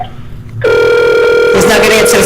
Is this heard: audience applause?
no